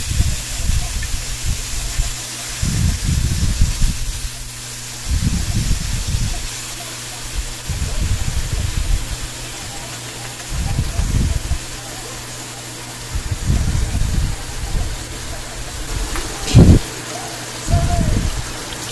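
Pork belly liempo sizzles in a pan for adobo, a steady loud crackling hiss throughout, broken by bursts of low thumping and stirring clatter, with a short sharp clank near the end.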